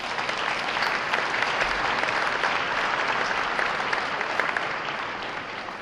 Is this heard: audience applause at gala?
yes